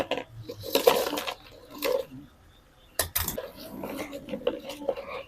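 Crispy fried onion fritters (piyaji) are handled, making close crunchy rustles and light clattering taps in several short bursts separated by brief pauses.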